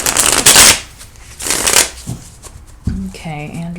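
Tarot cards are shuffled in two loud, close riffling bursts, followed by a short pause and then a voice speaking.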